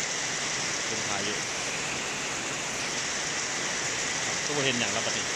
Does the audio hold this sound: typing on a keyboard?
no